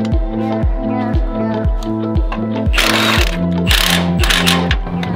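A ratchet loosening subframe bolts on an Audi RS3 under the car, with a steady, rapid rhythmic clicking of repeated strokes, loud and close, joined by a burst of harsher metallic rasping partway through.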